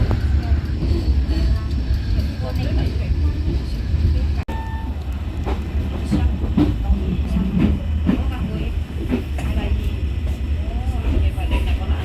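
A commuter train on the Sidoarjo to Bojonegoro line pulls away from Sidoarjo station, a loud continuous rumble and rolling clatter from inside the carriage with a brief dropout midway and faint voices beneath.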